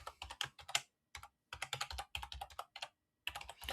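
Typing an email address on a computer keyboard: quick bursts of close, crisp key clicks in short runs separated by brief pauses, with no other sound.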